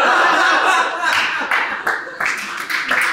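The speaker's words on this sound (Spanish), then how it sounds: "¡Qué aplaude!" Clapping from an audience at a stand-up comedy show where first-time jokes are tried out, a loud run of sharp claps with brief swells, fairly close, and a trace of laughter mixed in.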